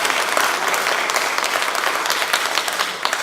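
Lawmakers at a party caucus meeting break into applause, a dense, even burst of many hands clapping together, loud and continuous throughout with no voices over it.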